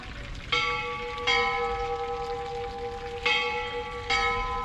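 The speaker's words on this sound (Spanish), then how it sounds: "qué bonito está sonando la iglesia, la campana esa" Church bell of the Audiencia in Soria, Spain, ringing in a slow, resonant series of four loud strikes with long sustained hum between them, heard alone outdoors.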